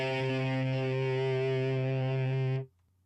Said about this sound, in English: Here are the spectrums of a guitar with and without distortion.